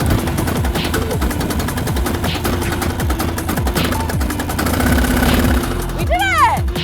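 A motorcycle engine cranking on a jump starter clamped to bare metal, loud and close, with a fast, steady chugging pulse throughout and a rising whine near the end.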